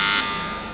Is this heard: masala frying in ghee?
no